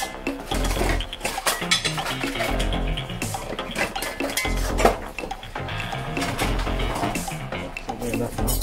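A spoon scrapes and clatters against a metal pot while lamb biryani is folded together with pilau rice and sauce, steady rhythmic clinks and scrapes close up over low background music.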